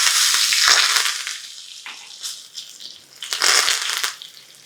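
Mustard seeds, cumin, asafoetida and curry leaves hit hot oil for a chutney tempering, a loud spattering sizzle that surges twice with a dip between, without speech.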